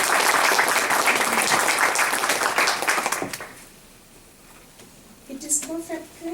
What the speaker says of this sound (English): I would like us to give them a round of applause